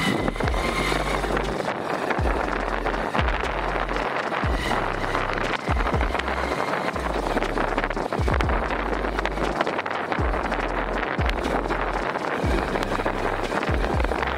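A motorcycle ridden at about 30 km/h with one hand on the bars, its engine running steadily with a low pulsing throb under continuous wind rush at the microphone.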